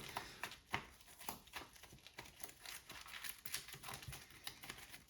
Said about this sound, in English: We're just going to shuffle the whole thing together.